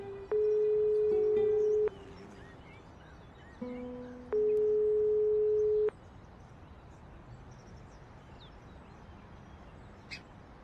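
Unanswered phone call in the Broken Sword 5 adventure game: two long, loud electronic ringback tones, each about one and a half seconds, separated by a pause over faint street ambience, with no voices.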